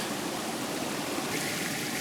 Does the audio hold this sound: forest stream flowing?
yes